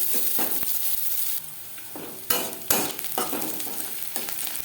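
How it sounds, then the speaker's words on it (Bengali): Two chopped onions sizzle steadily in hot oil in a wok, with a few sharp scraping stirs breaking through the close, constant frying. "ডিম ভেজে নেওয়া কড়াইতে আবারও তেল দিয়েছি। দিয়ে দেবো পেঁয়াজ।"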